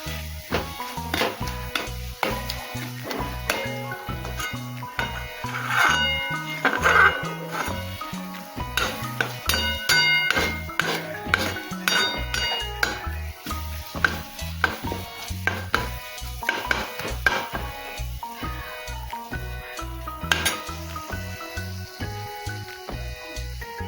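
Tomatoes with coriander powder, chilli, turmeric and salt are stirred in a pan, a spoon scraping and knocking against the metal in a quick, steady rhythm, close and fairly loud throughout.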